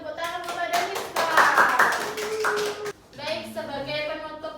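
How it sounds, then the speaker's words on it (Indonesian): Pupils in a fourth-grade classroom give a short round of clapping for a classmate, brisk and close, with the teacher speaking over the start and again afterward. "Beri tepuk tangan kepada Niswa"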